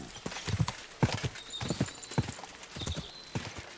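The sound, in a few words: horse in Kingdom Come: Deliverance II video game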